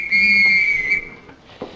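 A single loud, steady whistle blast sounded during a fire drill, a shrill tone lasting about a second and then cutting off, with some faint background noise after.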